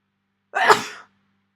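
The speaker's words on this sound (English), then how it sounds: "my nose is itching and I'm going to sneeze in just a sec." One sharp, close sneeze bursting out of silence and trailing off quickly.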